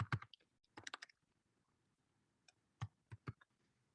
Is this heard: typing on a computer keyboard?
yes